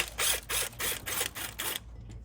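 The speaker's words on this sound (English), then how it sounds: "you're going to go ahead and take this bolt off now" A ratchet wrench loosens a bolt on a Ford Mustang EcoBoost S550 engine during head gasket work, giving six rhythmic close clicking bursts that then stop.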